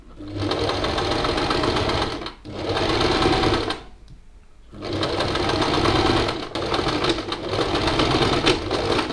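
A sewing machine stitches a backstitch on fabric while sewing a top from a pattern, running loud and close in steady bursts with a short pause in the middle before it resumes.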